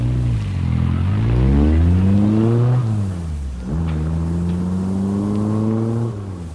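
A car engine revs and pulls away close by, the pitch rising through two gear changes before the sound holds steady, loud and alone with no talking.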